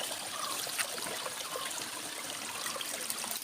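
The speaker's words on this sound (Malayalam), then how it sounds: "ഇവിടെ ഈ ബോർഡറിനോട് ചേർന്ന് തന്നെ ചെറിയൊരു അരുവി പോലെ ഒരു ഒഴുക്ക് നമുക്ക് കാണാൻ പറ്റും" A small stream trickles and flows steadily beside the border of a cardamom plantation in Attappadi, a continuous close babble of running water with no talk.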